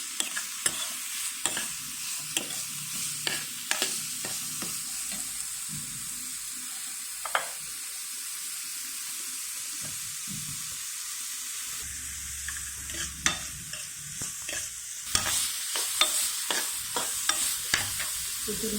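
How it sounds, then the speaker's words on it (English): Chopped onion fries in a pan over a gas flame, a constant close sizzle broken by repeated scraping and clacking of a spoon stirring, with no talking. "Fry it till it becomes translucent."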